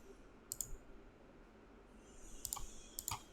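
A few sharp computer mouse clicks, isolated then in a quick pair near the end, close and crisp over faint room hiss.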